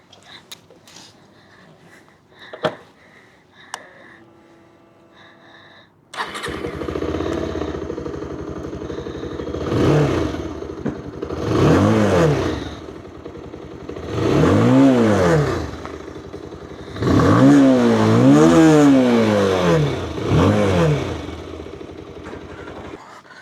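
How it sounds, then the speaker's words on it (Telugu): A 2026 Bajaj Pulsar 220F motorcycle clicks and starts, then settles into a loud, close idle broken by several rising revs, the last ones revved repeatedly in quick succession. "ఈరోజు డినో అనేది తీసుకొచ్చేసాడు సరికొత్త 2026 బజాజ్ పల్సర్ 220F"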